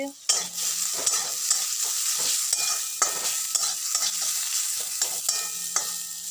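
Onions sizzle in a hot pan until brown, a dense, steady frying hiss broken by regular clicks and scrapes of a stirring spatula, near and with no voices.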